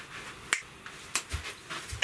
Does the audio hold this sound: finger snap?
yes